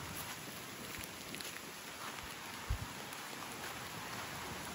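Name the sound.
rain falling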